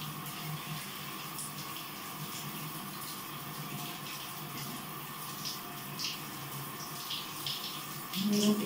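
Tap water runs steadily into a bath, a continuous close rushing flow that stays even throughout, with no talking.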